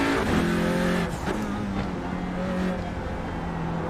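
Front-engine, front-wheel-drive TCR touring car racing a night lap of the Nordschleife in a video game: a loud, close engine drone with shifting pitch as it revs, changes gear and climbs again.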